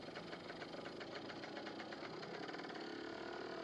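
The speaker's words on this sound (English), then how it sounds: "now we're going to look at the motocross action on this vintage-friendly natural course." Vintage motocross motorcycles, pre-1974 bikes including open twins, race on a natural course at an AHRMA national at Steamboat in 1997, their engines buzzing loud and steady with rapid rhythmic pulsing and no voices.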